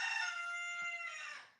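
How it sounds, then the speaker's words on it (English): A rooster crows once in a long, drawn-out call that trails off near the end, clear and fairly close with no voices. "A rooster will always crow, unless he's wearing a collar that makes him not"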